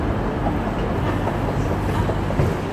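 Train noise at Manchester railway station, a steady low rumble and rolling clatter of rail cars that fills the whole stretch at an even, fairly loud level, with no voices over it.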